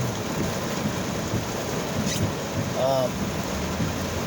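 Thunderstorm with steady rain hissing throughout and low rumbling thunder, heavy weather during an active lightning storm; a continuous dense wash of sound with a brief faint tonal sweep partway through.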